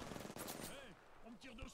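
Rapid automatic gunfire in a shooter video game rattles continuously under gameplay effects, with a sustained dense burst and sweeping electronic tones layered over it.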